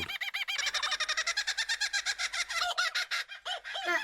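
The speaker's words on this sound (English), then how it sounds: "certainly some insane sounding birds out there" A rapid series of loud, insane-sounding bird calls repeats in a quick pulsing rhythm, shrill and close, filling the clip alone without talk.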